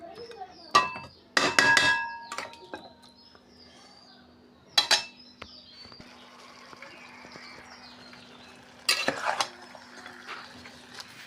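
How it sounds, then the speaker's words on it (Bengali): A utensil stirs and scrapes food sautéing in a pan, with several sharp clanks and knocks against the metal between quieter stretches of soft frying. "তো আমার এটাকে এখন ভালোভাবে কষাতে হবে। এটাকে নাড়াচাড়া দিতে হবে।"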